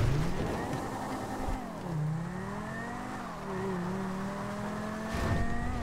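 A Banshee sports car in the GTA video game revs and drives at speed, its engine pitch rising and falling through gear changes, with a brief jump and a louder surge near the end.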